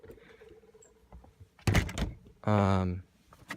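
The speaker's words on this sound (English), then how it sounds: "This is the back door. Got a nice lock there." A school bus back door with a lock is opened, giving two sharp clunks of the latch followed by a short grinding rattle of the door, close and loud.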